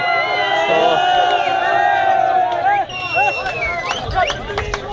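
A large crowd at a rally in Khuiratta, Kashmir, a loud, dense roar of many shouting and chanting voices, with whoops and cries rising out of the din.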